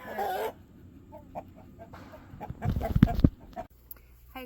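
Backyard chickens clucking near a homemade chicken swing, several soft clucks and a louder burst of squawks partway through, with a brief voice at the start.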